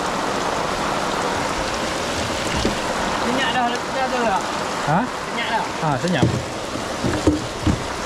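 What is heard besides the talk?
heavy rain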